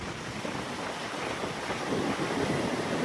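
Arabian Sea surf breaking below Vijaydurg fort, a steady broadband wash of waves mixed with wind buffeting the microphone, continuous and fairly loud with no voices.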